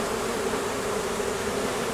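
Honeybees drone in a dense, continuous buzz during an end-of-day honey harvest, close and steady with no one speaking.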